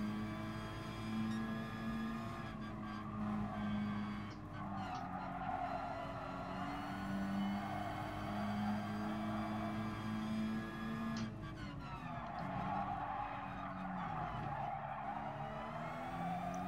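Race cars in the video game Gran Turismo Sport drone on steadily with high engine pitch that shifts through gear changes, and tire skids and squeals come in at intervals over a continuous mix.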